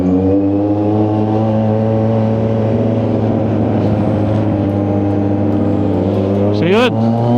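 Kawasaki Z900 SE, Yamaha XSR900 and Honda CB650R motorcycles riding at night on the NLEX expressway, a steady loud engine drone with a rising rev near the end, under continuous talk.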